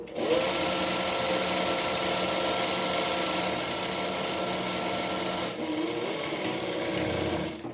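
A sewing machine runs continuously up close while stitching a straight seam on a layered frill frock, with a steady whirring hum and a slight dip near the end.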